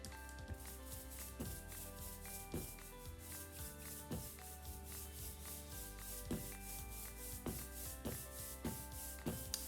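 A brayer rolling out printing ink makes a steady sticky rolling and rubbing texture in even strokes, close and moderately quiet, with faint ringing tones underneath.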